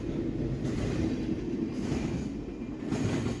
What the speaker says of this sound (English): As we watched this likely high-priority morning intermodal cruise by on its high green routing west